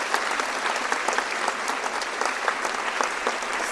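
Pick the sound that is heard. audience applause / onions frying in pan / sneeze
audience applause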